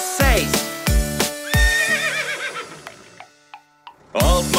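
Cartoonish horse neighing in a children's nursery song, several loud close whinnies in quick succession with falling pitch, separated by short pauses and faint clip-clop.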